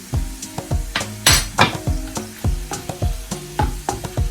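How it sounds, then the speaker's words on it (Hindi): Garlic and ginger sizzle in a pan for a sarson ka saag tempering while a utensil scrapes and taps against it in a quick, regular rhythm. "अब इसको 2 मिनट फ्राई करेंगे।"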